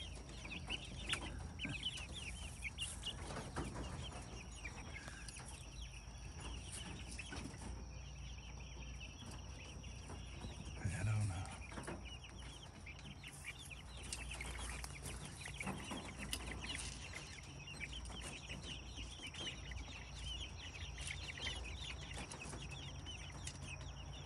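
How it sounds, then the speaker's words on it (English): Chickens and a rooster clucking in a farmyard flock, steady overlapping calls throughout against outdoor background noise with no talking. "There's another rooster in there somewhere."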